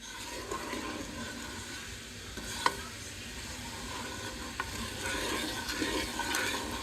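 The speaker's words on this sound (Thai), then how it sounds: "คนให้น้ำตาลละลายนะคะ" Sugar being stirred in a bowl to dissolve it for Thai mango sticky rice, a steady soft scraping swirl with a couple of sharp clinks of the utensil against the side.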